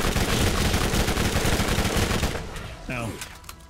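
Rapid automatic gunfire in the shooter game Borderlands, loud and continuous for a few seconds before thinning out into scattered shots and game effects, with a voice talking over it.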